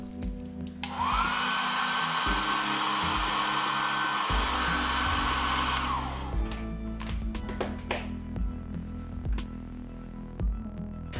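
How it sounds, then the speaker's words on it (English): A hair dryer blows steadily on the front of an iPhone XS Max display, over the sensor panel, for several seconds, then cuts off, followed by scattered taps and handling noises nearby. "Using hair dryer, hit the front side of display"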